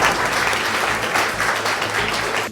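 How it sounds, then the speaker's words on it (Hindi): Audience applause, steady dense clapping from a crowd, loud and sustained without pauses for the whole short stretch. "ताली बजा रहे।"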